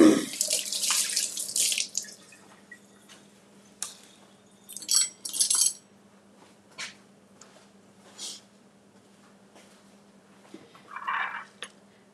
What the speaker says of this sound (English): we're just gonna rinse these off.